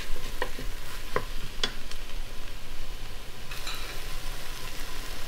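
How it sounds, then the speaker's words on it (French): Diced tomato and vegetables sautéing in a Cookeo multicooker, a steady close sizzle with occasional clicks and stirring sounds, no talk. "une tomate coupée en cubes et on va faire revenir tout cela quelques minutes"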